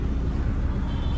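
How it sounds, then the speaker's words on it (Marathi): Steady low engine rumble and road noise inside a family car on a highway trip, heard from the cabin, continuous with no voices. "पप्पा इथं गाडी चालवते"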